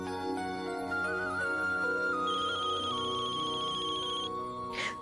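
Phone ringtone playing a melodic electronic tune that shifts through sustained notes, fairly loud and close, ending in a short rustle, with no talk over it.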